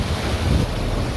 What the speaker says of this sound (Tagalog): Ganda pakinggan yung tunog ng alon.